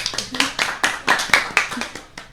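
Audience clapping after a quiz-style show segment, a small group producing uneven bursts of claps in a loose rhythm, fairly close and moderately loud.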